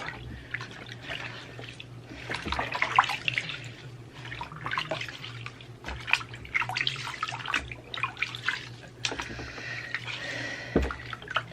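Water splashes and trickles steadily while a three-week-old newborn girl is rinsed in a bath with Epsom salts and lavender oil, forming a close, continuous wash with brief pours and drips.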